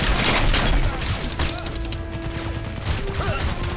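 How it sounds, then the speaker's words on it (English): Rapid bursts of gunfire crackle and thump during a firefight in Crysis on PS3, loud and near, mixed with impacts, shattering debris and other game effects. "you can't just stand out there in the middle of gunfire"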